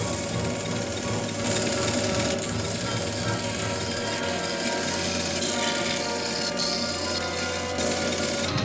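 Excess brass trimmed from a French horn bell flare on a machine: a loud, steady mechanical whirring with a grinding, ratcheting edge runs continuously, with occasional sharper scrapes.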